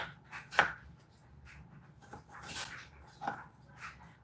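Knife chopping partially frozen chicken on a cutting board, a few sharp irregular knocks and scrapes spaced across the moment, quiet and close with no talk.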